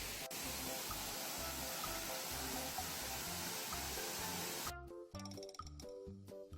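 Waterfall at a quiet spot, a steady broadband rush of falling water that fills most of the stretch before dropping away abruptly near the end.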